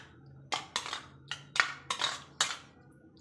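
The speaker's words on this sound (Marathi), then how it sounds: "हे पूर्ण मिक्स करून घेऊया आपण।" Potato pieces being mixed in a bowl for dahi aloo chutney, giving a series of soft clinks and scrapes at an uneven rhythm, close and fairly quiet, with no talking.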